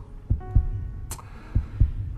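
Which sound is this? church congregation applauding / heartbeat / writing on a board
heartbeat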